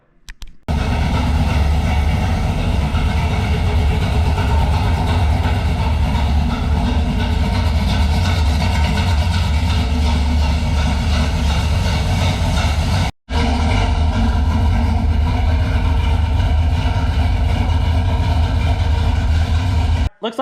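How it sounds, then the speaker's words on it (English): A race truck's loud engine starts and idles with a steady, heavy rumble, broken once by a brief cutout. "So now I need to fire the truck up and make sure we don't have any leaks"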